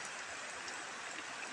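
Rushing floodwater makes a steady, dense roar close by. The wash is broadband and unbroken, with no voices over it.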